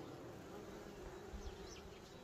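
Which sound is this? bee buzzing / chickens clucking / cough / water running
bee buzzing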